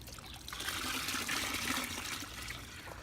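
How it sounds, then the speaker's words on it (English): Acid tanning solution trickling and dribbling as a raccoon hide is wrung out by hand, a close, continuous wet splatter lasting a few seconds with no voices. "wringing the acid out."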